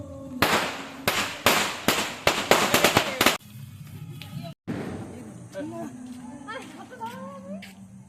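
Firecrackers bursting during Shyama Puja and Bhoot Chaturdashi celebrations, a rapid run of sharp loud bangs followed by crackling and whistling fizzes, with people talking and voices in the background.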